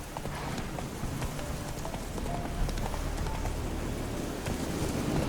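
Roach, Geralt's horse in The Witcher 3, gallops with rapid rhythmic hoofbeats, steady clip-clop thuds over a windy rush of movement, loud and close throughout.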